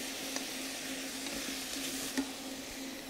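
Lamb and vegetables browning in a hot pan for a seven-hour leg of lamb, giving a steady close sizzle with soft crackles and a few brief stirring clicks, no talking.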